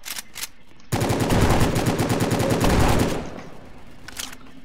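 Rapid automatic gunfire in a shooter video game during a fight with several criminals, a loud sustained burst of evenly spaced shots lasting about two seconds, framed by a few short bursts before and after.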